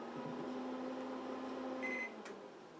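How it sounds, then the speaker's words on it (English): A Whirlpool GE microwave oven heating a cup of water, its steady low hum and fan noise running continuously, with a faint brief electronic tone near the end before the hum drops slightly. "if you turn on your microwave and you hear zzz, zzz, zzz"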